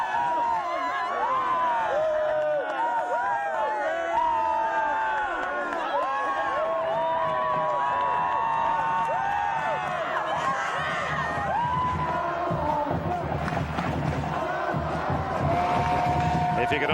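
A college football crowd at a Notre Dame versus Arizona State game in 1999 cheers in a continuous roar, with whoops and shouts layered beneath a commentator talking.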